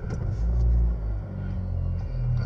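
A 2017 Nissan Kicks SV with a 1.6 16v flex-fuel engine fires up by push-button start-stop ignition, settling into a loud, close, steady low rumble with a brief dip before evening out, without any voices.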